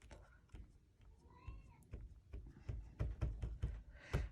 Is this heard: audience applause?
no